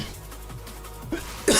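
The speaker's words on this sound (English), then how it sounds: "Fuck, coughing." A person coughs in short, sharp bursts, a brief one followed by a louder, harsher one at the very end, with nothing else around them.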